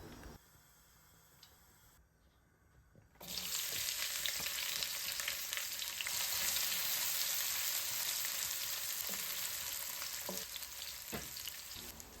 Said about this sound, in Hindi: एक कढ़ाई में हाफ कप ऑयल डाल के उसमें अनियन डाल दिया